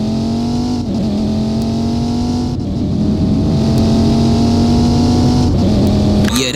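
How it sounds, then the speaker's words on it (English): A high-revving V10 supercar engine drones loudly and steadily, its pitch climbing in repeated pulls with brief dips between gear shifts, close and continuous. "That V10 could definitely make a sound"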